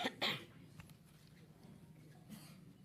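A person coughs several times at a press conference, two sharp close coughs near the start, then quieter room noise with a faint further throat sound.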